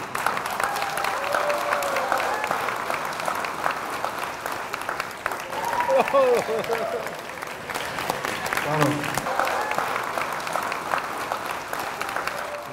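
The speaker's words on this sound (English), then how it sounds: "Look at the applause that he's getting." Sustained crowd applause at a public question session, a long even wash of clapping with voices speaking and calling out over it.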